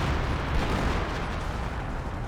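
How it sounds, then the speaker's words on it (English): An artillery barrage in Company of Heroes rumbles as a continuous dense roar of distant blasts and booms, heavy and unbroken throughout. "that's an actual barrage"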